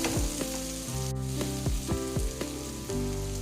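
Vegetables for a masala bath sizzle and fry in a hot pan while being stirred together, a steady close crackle broken by regular scraping strokes of the spoon.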